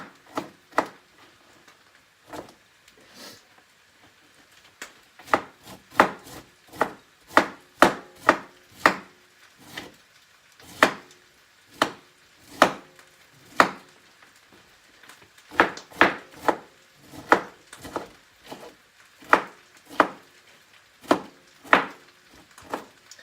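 Knife chopping eggplant and other vegetables on a wooden cutting board, a run of sharp, close, evenly paced thuds in quick bursts with short pauses between them.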